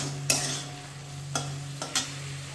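Mashed shrimp bharta fries and dries in a pan under a steady soft sizzle and a low hum, broken by a few sharp scraping stirs spaced across the stretch, no one talking.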